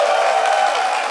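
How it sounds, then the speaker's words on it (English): A large conference audience at DEF CON 20 applauds in a brief, dense wash of clapping and crowd noise, steady and fairly loud throughout. "Please clap for that."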